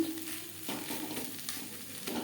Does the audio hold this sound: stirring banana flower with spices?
yes